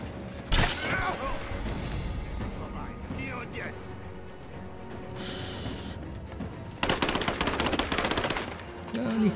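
Gunfire rings out during Rise of the Tomb Raider gameplay: a sharp shot early on, then a dense burst of rapid fire near the end, with someone talking over the game sounds.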